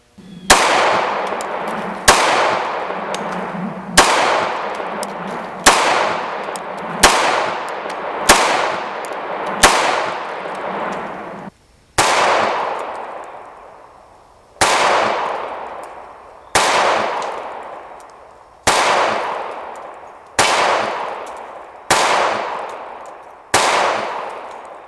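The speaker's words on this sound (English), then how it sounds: "We first shot a group about 15 yards pretty rapidly" Dan Wesson CCO 1911 pistol fired in rapid strings at a range, about fifteen sharp loud shots, each with a ringing decay, in quick bursts followed by slightly slower spaced shots, no talking.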